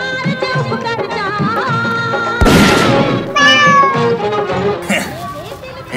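A cat meows through a comedic domestic scene in a short film, its cries mixed with background music and a sudden loud burst partway through.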